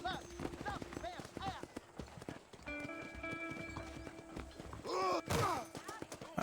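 Horse hooves clip-clop in Red Dead Redemption, a steady trotting rhythm drawing closer with a whinny near the end, under Spanish-speaking voices.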